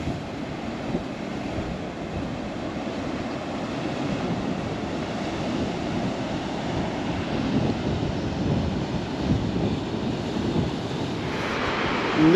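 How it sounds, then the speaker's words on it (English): Big ocean waves splash onto the rocks at El Golfo, Lanzarote, as a continuous heavy roar of surf with surges and wind rumble, loudest toward the end. "a lot of these waves just splash up onto these rocks here"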